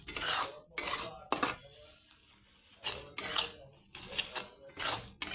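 Turmeric, chili, cumin and coriander powders being mixed in a cooking pan, with a spoon scraping and clinking against the metal in several bursts and short pauses between them.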